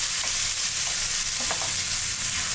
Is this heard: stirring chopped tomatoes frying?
yes